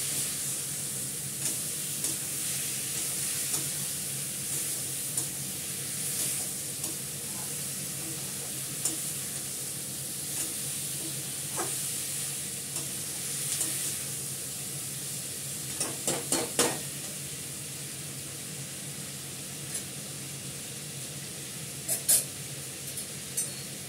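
Steady sizzling and frying of curry in a pan with a soft background hiss, broken by occasional scraping and stirring clatters.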